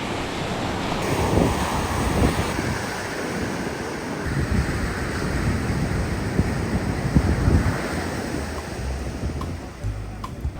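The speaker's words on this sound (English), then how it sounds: "you can't really swim in here because as you can see the waves are so strong" Strong surf crashing at Sandy Beach in Honolulu, Hawaii, a continuous loud roar of breaking waves with wind buffeting the microphone and no voices.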